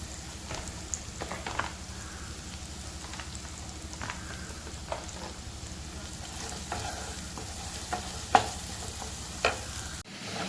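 Red chili powder sautéing in a spoonful of oil over a low flame, giving a soft, steady sizzle with occasional stirring scrapes and clicks, fairly quiet and close.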